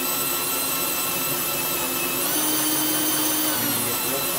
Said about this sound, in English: When you get real close, let the drill bit do the work.